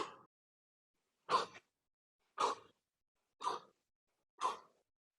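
Slow, deep breaths during a yoga relaxation exercise for anxiety and sleep, four to five even airy exhalations spaced about a second apart, close and alone in a quiet room.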